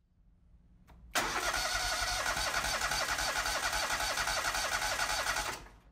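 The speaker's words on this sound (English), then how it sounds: "Turn ignition switch to start position and crank the engine." A small engine on a KOHLER generator set cranks under the starter with the ignition switch held in the start position, a loud steady whirring drone that runs for about four and a half seconds before cutting off, with no talk.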